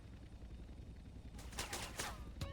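A few quick bursts of video game gunfire crack out in the second half, faint and distant over a low background rumble, in GTA San Andreas.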